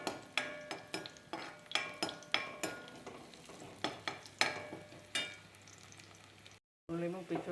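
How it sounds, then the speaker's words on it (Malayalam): Onions sauté in a pan for a potato roast, with a soft frying hiss under repeated rhythmic clinks and scrapes of a spoon against the pan, close and fairly quiet. "അപ്പോൾ നമ്മൾ ആദ്യം ഉള്ളി മുപ്പിച്ചു."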